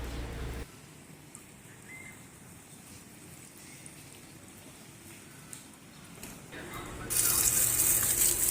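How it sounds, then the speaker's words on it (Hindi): Cold water running from a tap on a pipe, a soft steady gush that swells to a louder rushing splash near the end, with brief talk at the start. "पाइपों में पानी भी इतना ठंडा ठंडा मज़े का आ रहा है।"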